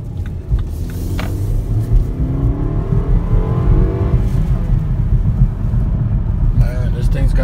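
A 2018 BMW X1 with a turbocharged four-cylinder and four-wheel drive accelerating at night, a steady loud engine rumble with rising tones heard from inside over continuous road noise.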